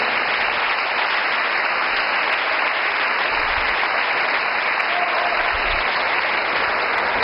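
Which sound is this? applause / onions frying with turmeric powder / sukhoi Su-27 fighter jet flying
applause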